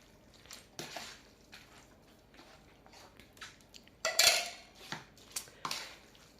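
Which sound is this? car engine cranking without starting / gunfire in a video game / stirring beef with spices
stirring beef with spices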